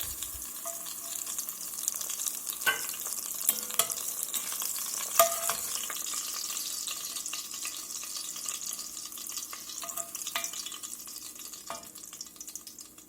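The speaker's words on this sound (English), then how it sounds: "We're just letting these toast up here a few minutes until they get a little golden brown." Ingredients toasting in a hot pan for Tuscan peppery beef peposo, giving a steady close sizzle with a constant bright hiss and occasional soft clicks of stirring, alone without speech.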